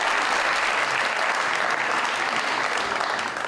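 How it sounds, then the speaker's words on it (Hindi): Studio audience on a Pakistani celebrity talk show bursts into loud, sustained applause, dense steady clapping filling the room throughout with no break. "तालियां आनी चाहिए इसके लिए"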